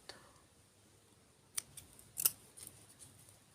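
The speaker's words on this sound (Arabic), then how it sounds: "هنبتدي نقص الخيط" Scissors snip thread while handmade children's hair clips are made from 2 cm satin ribbon; two or three short, quiet snips come mid-clip against near silence.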